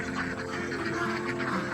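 Ducks quacking at a homestead farm, a steady, busy mix of calls close by with no clear talk over them.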